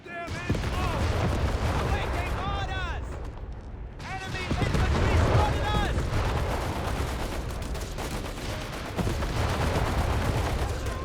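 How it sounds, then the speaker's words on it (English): Luftwaffe artillery barrage in Company of Heroes 3, a dense run of booming impacts and gunfire rumbling steadily for about eleven seconds, with a brief lull near the middle, under a commentator's voice. "Another Luftwaffe barrage."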